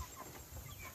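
Hens clucking close by with a rooster somewhere behind them in a farmyard pen, a steady low murmur of fowl sounds over quiet outdoor background for about a second.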